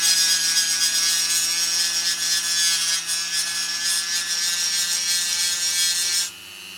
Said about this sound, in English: Just use a Dremel to grind them all flat.